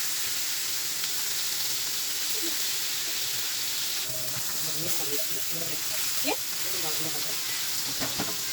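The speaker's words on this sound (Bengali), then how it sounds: "এখানে টাটকিনি মাছ আমি মশলা মাখিয়ে রেখেছিলাম, এখন হালকা করে ভেজে নেব।" Marinated tatkini fish fries in oil in a pan with a constant, dense sizzle and hiss, plus faint scraping and clinking of a utensil partway through.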